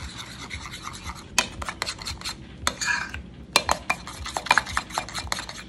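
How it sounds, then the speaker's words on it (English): A spoon scrapes and clinks around a bowl, mixing chebe powder hair mixture in irregular bursts of rasping strokes and taps, close and fairly loud with no voices. "what you wanna do is you just wanna mix it up"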